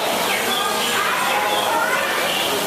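Loud, dense bird calling fills a tropical rainforest exhibit set above an aquarium, many overlapping chirps and coos running continuously with no pauses.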